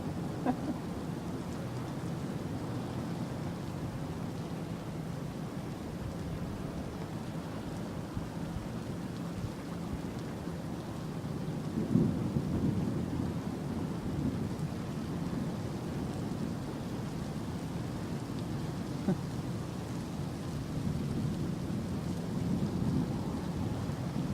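Heavy monsoon rain pours steadily and close by, with low rumbles of thunder rolling through the dense, continuous downpour; no voices.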